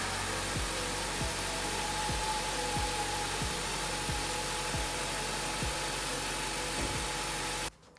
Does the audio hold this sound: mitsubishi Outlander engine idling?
yes